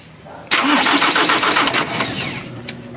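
A Mitsubishi 4M51 diesel engine in a Canter truck, freshly overhauled and running a bit rough, cranks with a quick rhythmic churn and then fires into a loud, uneven idle.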